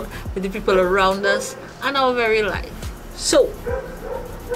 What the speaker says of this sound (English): please excuse the barking dog